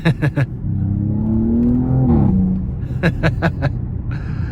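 A 2023 Audi S7 with a 2.9 twin-turbo V6 revs and accelerates out of a corner with a rising exhaust drone and crackles, then shifts; sharp pops punctuate the start and end, loud and close.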